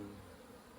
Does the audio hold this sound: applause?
no